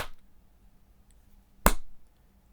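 Single sharp hand clap in an acoustically treated room, a crisp close snap that dies away quickly with almost no echo, after a faint thump and near silence.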